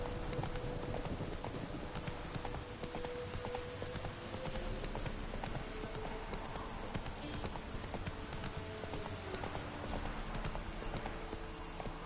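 Horse hooves galloping in The Witcher 3, a dense, continuous drumming clip-clop at steady pace, loud and close for the whole stretch with faint game ambience beneath.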